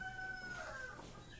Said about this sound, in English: I hear the rooster crowing